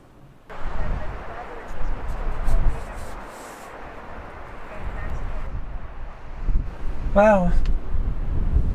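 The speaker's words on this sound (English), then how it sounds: "The wind's kicking up." Wind blows steadily across an open mountainside at sunset, a broad roar gusting and buffeting the microphone throughout, with a brief spoken exclamation and a short whistling tone near the end.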